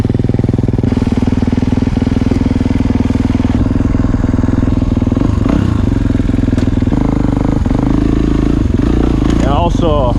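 A 2019 Kawasaki KX450 dirt bike with an FMF Megabomb header runs loud and close, idling with throaty revs and blips throughout.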